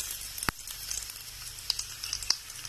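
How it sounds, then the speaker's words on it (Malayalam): Dried red chillies sizzle in hot sunflower oil with mustard seeds, a steady soft crackle with a few sharp pops standing out, close and fairly quiet. "കടുക് പൊട്ടി വന്നിട്ടുണ്ട്, അതിലേക്ക് വറ്റൻമുളക് ഇട്ട്"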